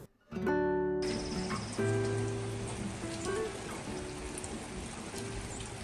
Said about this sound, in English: It's been raining like this all day.